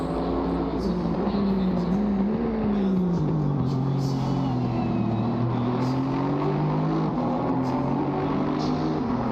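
Mercedes-AMG GT4 race car lapping the COTA circuit, a loud continuous engine drone that dips and climbs in pitch as it shifts through the corners, with a commentator talking over it.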